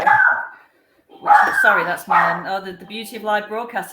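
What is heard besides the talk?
dog barking after doorbell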